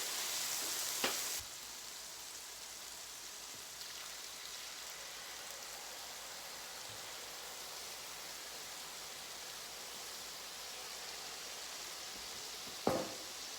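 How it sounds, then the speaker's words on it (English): Steady, even sizzling hiss of teriyaki chicken frying on a hot griddle, continuous and close, with a couple of sharp clicks near the start and end. "It gets hot, it gets sizzling. You're gonna hear it."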